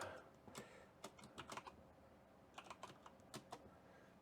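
Password typed on a computer keyboard, faint scattered keystrokes in small quick clusters with gaps, close but quiet, no voices.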